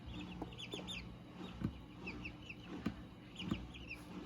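Young barred rock chicks, two to three weeks old, cheep and peep in repeated short high calls against a low steady background hum, close and fairly soft.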